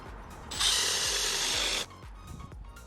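Power drill drives hidden fasteners into the grooves of Trex composite deck boards, one loud steady whir lasting just over a second, set between quieter handling clicks and knocks.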